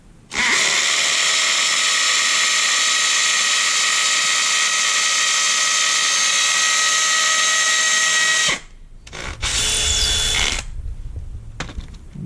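A power drill drives a screw into brick for a backyard outdoor kitchen sun shade install, whining loud and steady for about eight seconds, then stopping and giving a few short bursts as the screw tightens.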